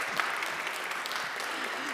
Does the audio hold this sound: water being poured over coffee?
no